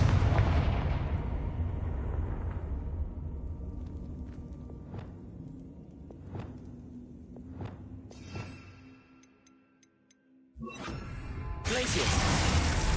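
A Confringo fire-blast spell in Hogwarts Legacy, heard as a burst of booming explosive impacts and sharp cracks over rumbling game noise, followed by a brief lull and another loud blast.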